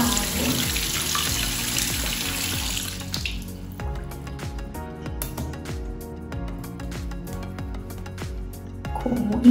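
Tap water runs during a concealer water-resistance test as a steady, loud rush for about three and a half seconds. It then cuts away to quieter background music.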